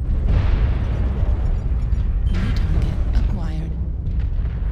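A BattleMaster mech blowing up in MechWarrior Online, a loud rumbling explosion that rolls on for several seconds, with a voice speaking over it partway through.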